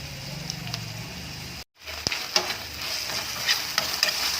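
Onions sauté with shrimp in butter in a hot pan, a loud continuous sizzle with bright crackles and stirring scrapes that briefly cuts out, then resumes just as strong.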